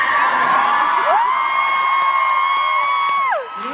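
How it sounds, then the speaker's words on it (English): Convention panel audience screaming, whooping and cheering loudly and continuously, with high shrill voices rising in pitch and holding before dropping off near the end. "They're screaming and egging us on"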